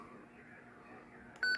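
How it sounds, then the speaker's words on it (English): A Retevis RB17P GMRS handheld radio gives one short, clean electronic key beep near the end of a quiet stretch. "We have the beep on."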